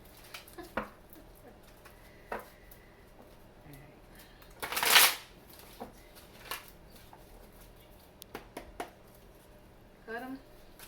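Tarot cards riffle and snap in a quick shuffle, one sharp burst of card flutter standing out among faint taps and handling noises, with a soft voice speaking at times.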